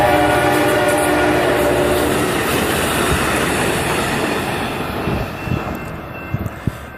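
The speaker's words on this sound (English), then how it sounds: "I'm gonna wait till the train passes." A train passes close by, a loud roar of wheels and rail clatter with a sustained horn blast at the start, fading out over several seconds, followed by a few scattered knocks and clicks.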